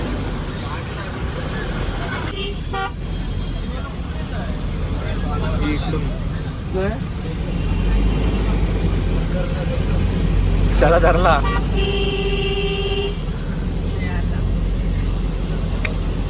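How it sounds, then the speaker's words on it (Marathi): Heavy traffic jam on a stalled expressway, with a steady low roar of idling and creeping vehicles throughout, a horn-like tone blaring briefly near the end, and people talking over it. "बेकार ट्रॅफिक आहे"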